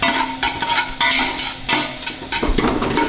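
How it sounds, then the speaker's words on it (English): Onions sautéing in the fat of a pale roux for a bisque, a loud close sizzle broken by repeated stirring scrapes. "Next, I'm going to add my onions. I'm going to let those saute just a little bit."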